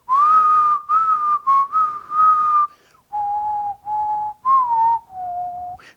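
A clear melodic whistled tune in sustained notes with short breaks between phrases, close and prominent, with no other sounds.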